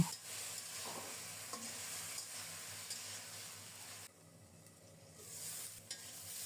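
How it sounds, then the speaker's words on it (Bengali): Eggplant fries with green chili, turmeric and salt while being gently stirred, a close sizzle broken by soft scraping strokes, dipping quieter for a moment before the hiss returns. "আলতো হাতে নেড়ে চেড়ে কিছুক্ষণ ভেজে নেব।"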